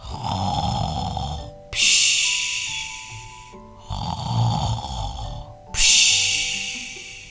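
A giant in a fairy tale snores loudly: about three slow, rhythmic cycles of deep rasping breaths, each ending in a sharp whistling snort, heard close up and alone.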